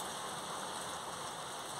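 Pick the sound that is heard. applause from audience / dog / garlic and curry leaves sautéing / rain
rain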